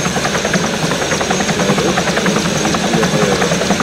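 A helicopter engine and rotor roar loudly and steadily from inside the cabin, a dense continuous drone with a fast rhythmic chop running throughout.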